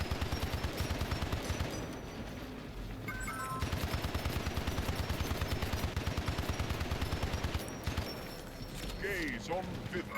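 Rapid automatic gunfire in the video game Hypercharge: Unboxed rattles in long, fast bursts with short gaps, fairly quiet overall, under light in-game effects and a voice speaking.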